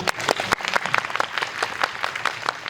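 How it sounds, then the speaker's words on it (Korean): Audience at a film screening Q&A event gives brief, moderately loud applause made of distinct overlapping claps in a short irregular burst, without talk over it. "박수 부탁드립니다."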